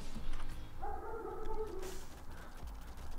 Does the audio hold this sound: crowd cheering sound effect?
no